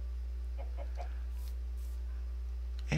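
Chickens cluck in a video game, a few short, faint clucks in quick succession over a steady low hum, with no talking.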